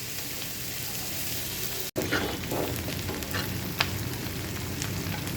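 Sliced onions sizzle in hot oil in a pan for a prawn bhuna, a steady close frying hiss with a brief break and a few spoon scrapes, no talking.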